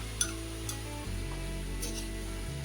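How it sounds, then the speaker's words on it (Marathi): Chillies sizzle steadily in a hot pan as tomato is added, giving an even, close frying crackle with a couple of faint taps, and no voices. "त्याच्यामध्ये आपण आता हा टोमॅटो टाकून घेऊ"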